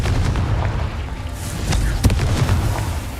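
A Confringo explosion spell cast in the Hogwarts Legacy video game gives a dense burst of booming, crackling blasts. One sharp bang stands out about two thirds of the way through, with no speech.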